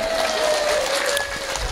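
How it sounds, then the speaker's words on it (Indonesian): Applause from the crowd at an Islamic religious gathering (pengajian), a short burst of dense, continuous clapping with a faint steady tone running beneath it. "tepuk tangan dulu dong"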